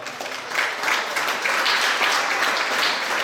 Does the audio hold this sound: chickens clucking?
no